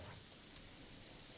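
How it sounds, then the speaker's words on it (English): Steady rain falling in a video game, a constant broadband hiss of drops pattering on surfaces with no gaps, moderately quiet and heard alone without voices. "It's raining."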